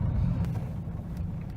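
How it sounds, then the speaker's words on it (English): A straight-piped 1.9 CDTI 150 diesel engine in a car, giving a close, low, continuous grunting rumble with slight fluctuations, heard alone without talking. "I know that the diesels don't make the best of noise,"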